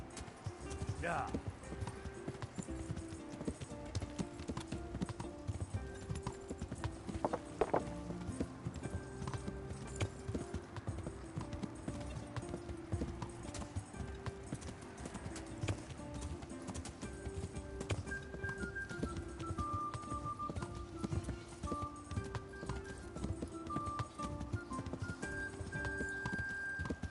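Horse hooves clip-clop in a steady walking rhythm while riding in Kingdom Come: Deliverance, with game music and ambient birdsong beneath and occasional faint whinnies.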